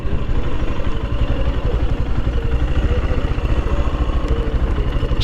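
A 110cc motorcycle engine putters steadily at idle close by, a continuous low rumble with a fast, even beat and no pauses for the full length.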